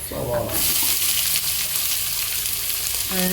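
Finely chopped onion goes into a hot pan and fries with a loud, continuous sizzle. A voice comes in briefly at the start and again at the end.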